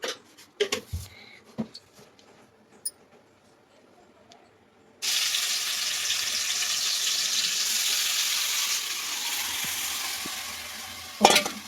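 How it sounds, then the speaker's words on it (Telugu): Tomatoes are fried in a pan for tomato chutney. A few stirring clinks come first, then a loud, steady hiss of sizzling oil fills the rest, with a sharp clatter at the end. "టమాటా పచ్చడి కోసం టమాటా వేయించుకున్నాను"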